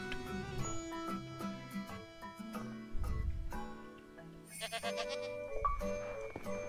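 A goat in a video game bleats repeatedly in short wavering calls over a bright, tonal game music bed, loud and close with no talk over it.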